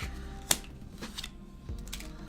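A deck of tarot cards being shuffled by hand, giving quiet, close riffling and flicking bursts with a sharp snap near the start and softer rustles after.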